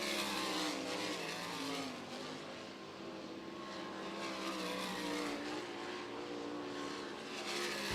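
USAC National Sprint Cars racing on the dirt track at Eldora Speedway during a top-lap session, a steady loud roar of engines droning and revving continuously, with no talk.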